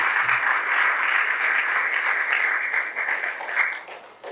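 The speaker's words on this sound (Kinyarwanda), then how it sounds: "Mumufashe dukomere amashyi menshi cyane." An audience at a celebration claps in a steady, fairly close burst that holds evenly, then thins out and fades toward the end.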